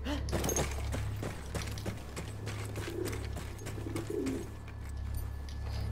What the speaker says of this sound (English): it's the messenger bird